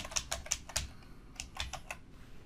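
Someone types on a computer keyboard close by, quick clusters of sharp key clicks in an irregular rhythm, with no talking.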